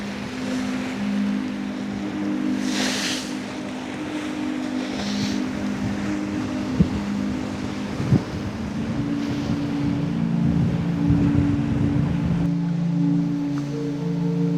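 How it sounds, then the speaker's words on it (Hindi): Fishing boats heading out to deep sea from a jetty at a coastal fishermen's village in Sindh: steady droning engines with wind buffeting the microphone, a few sharp knocks, and an engine tone that shifts near the end. "बहुत सी कश्तियाँ जो सुनहरी जेटी से निकली है इस वक्त यहाँ समंदर गहरे पानी की तरफ बढ़ रही है।"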